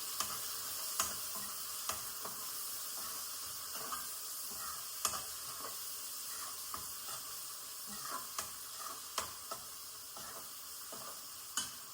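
Salt, chili, coriander-cumin powder and oil being stirred together in a pan, a soft continuous sizzle broken by regular light clicks of a spoon against the pan.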